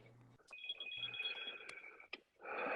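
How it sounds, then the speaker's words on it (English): A phone rings with a steady electronic trill of about a second and a half, then the ringing starts again, fairly close amid faint indoor background noise in a podcast studio. "My phone won't stop."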